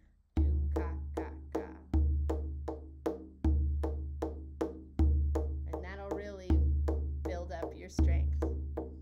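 Hand drum pattern of a deep doom followed by quick ka slaps in double time, repeating steadily and close, played alone.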